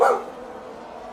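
A single short dog bark sounds at the start, fairly loud and close, then fades into a quiet background hum.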